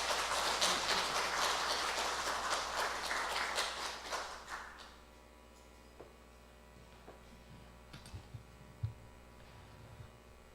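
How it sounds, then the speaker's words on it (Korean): Clapping from a congregation at a Wednesday church service welcomes the pastor, a dense burst of hand claps for about four seconds that thins and fades to a quiet room with scattered small knocks. "우리 목사님 나오실 때 우리 힘차게 박수로 환영하겠습니다."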